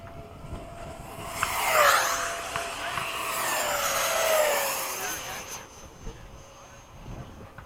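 A radio-controlled model jet makes a low pass at an RC flying field, its turbine whine rising and then sweeping down in pitch with a Doppler drop as it roars past at close range and fades away.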